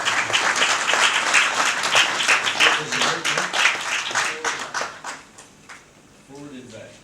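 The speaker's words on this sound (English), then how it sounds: "A round of applause for him." Audience applause at a nation-building workshop presentation, dense steady clapping that dies down to scattered claps near the end, with some murmuring voices under it.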